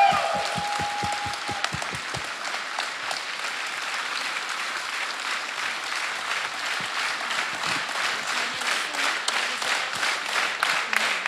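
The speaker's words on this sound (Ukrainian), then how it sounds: "Під ваші оплески." Sustained audience applause fills a hall at a Ukrainian evening of gratitude honouring the armed forces, opening with a few sharp individual claps before settling into dense, steady clapping that holds at an even level throughout.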